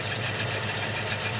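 A 4x4 truck engine idles steadily after a restart, a continuous low rumble close by with no talk over it.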